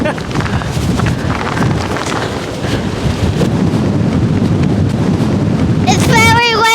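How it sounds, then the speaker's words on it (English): Strong wind on a Scottish hilltop roars and buffets the microphone in a steady, heavy rumble, with a brief voice near the end. "windy up here!"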